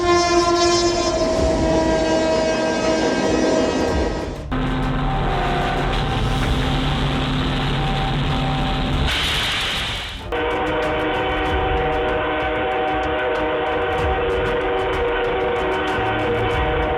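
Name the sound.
train passing through a flooded area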